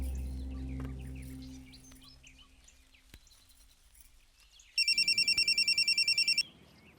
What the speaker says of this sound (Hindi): अच्छा रुकिए, मैं उसे अभी फोन लगाती हूँ।